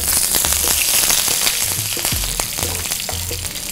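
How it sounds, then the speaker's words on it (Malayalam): Dried red chillies and curry leaves crackle and sizzle steadily in hot oil for cabbage thoran, a dense continuous hiss with scattered sharp pops, close and loud, no voices. "ഇനി നമ്മൾ അടുത്തത് ആ കൂട്ടത്തിൽ തന്നെ ചേർക്കുന്നതാണ് വറ്റൽ മുളക്"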